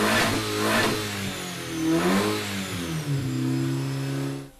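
A Porsche's 2.5-litre four-cylinder engine rated at 140 kW revs up, with engine pitch rising and falling in swells. It sounds loud and close with no talking.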